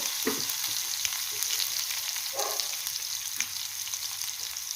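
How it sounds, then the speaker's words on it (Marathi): Cumin seeds and garlic sizzle steadily in hot oil for a Marathi coconut bhaji, a constant close hiss with a few soft crackling pops and light stirring scrapes, no voices. "मी जिरं टाकते मी जिरं चोळून नाही टाकत कारण का जिरं तेलात फुटतं चांगलं"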